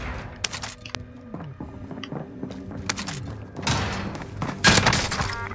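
Gunfire rattles in Call of Duty: Modern Warfare, with sharp cracking shots, thuds and mechanical clicks scattered across a few seconds, building to a louder burst of fire near the end.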